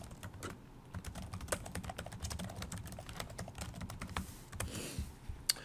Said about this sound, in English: now what I would do is I would type in my question.